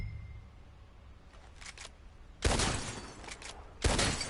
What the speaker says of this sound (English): My turn. I'll shoot a few more this time.